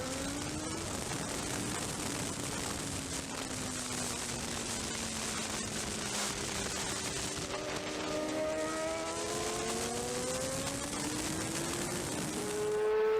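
BMW motorcycle at race pace around Donington Park, its engine note rising and falling steadily through the gears and corners over constant wind roar.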